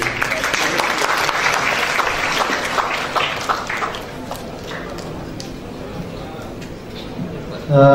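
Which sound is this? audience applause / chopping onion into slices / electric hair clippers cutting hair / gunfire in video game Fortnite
audience applause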